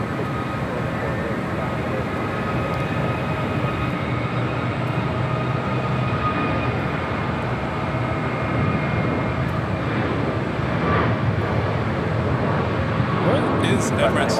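An airliner takes off from runway 25 left at LAX, producing a loud, sustained engine roar that fills the whole stretch and swells slightly toward the end, with voices talking over it.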